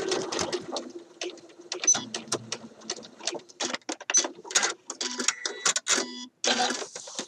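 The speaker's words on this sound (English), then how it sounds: "And then I'm stitching slowly around my little curved edge so that the neck part looks really nice." A sewing machine runs in short, uneven bursts while stitching slowly around a curved neck seam on a shirt dress, its quick mechanical rattling starting and stopping, close and fairly quiet.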